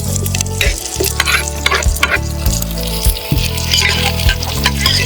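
Sliced green chillies, chopped onion and bay leaves sautéing in hot oil make a loud, close sizzle, with repeated scrapes and knocks from a spoon stirring them in the pan and no talking.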